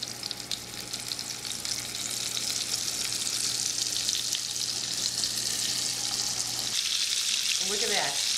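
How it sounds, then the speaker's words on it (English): Mahi mahi fillets searing in a hot pan of melted butter and olive oil, a loud steady close-up sizzle and crackle that runs without a break, with a brief stir or shift of the pan near the end. "I want to sear them in a hot pan"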